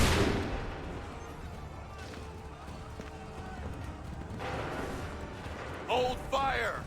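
Gunfire in the video game Assassin's Creed III, a loud volley bursting out at the start and fading into rumbling battlefield noise, with voices shouting near the end.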